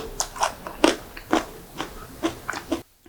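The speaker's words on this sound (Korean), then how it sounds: "씹히는 소리 들리죠?" Crunchy pickled Cheongyang chili peppers are chewed up close, with about nine sharp, rhythmic crunches that stop abruptly, and no talking over them.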